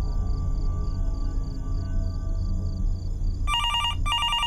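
A telephone rings in the horror game Fears to Fathom, two sharp electronic trill bursts near the end after a steady low room hum, loud and close with no talking.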